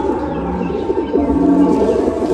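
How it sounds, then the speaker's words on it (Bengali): A Madrasi pigeon coos close up in a steady rolling, throaty burble that continues through a noisy indoor background. "এটা মাদা পায়রা, সুন্দর বডি"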